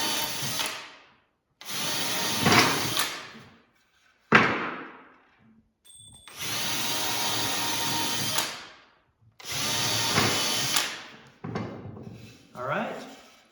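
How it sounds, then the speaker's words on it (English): Power drill with a 3/16 inch bit pre-drilling holes in wood pieces for a fold-up chair, several bursts of whirring a few seconds each, separated by pauses and a knock of handling, close up. "now we can put our 3/16 of an inch bit in our drill, and we can pre-drill those holes"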